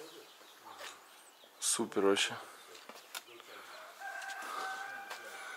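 Fighting chickens cluck and crow nearby in an outdoor yard, a rooster call rising briefly above steady background noise while a person talks.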